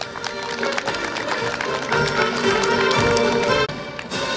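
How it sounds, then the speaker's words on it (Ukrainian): An audience at a Victory Day gathering applauds steadily, with dense overlapping claps throughout and a brief dip near the end. "Під ваші оплески, дорогі друзі."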